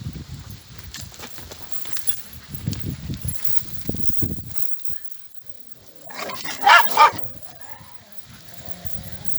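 Several dogs bark and yelp in bursts outdoors while being walked, with a louder cluster of barks near the end over a busy background.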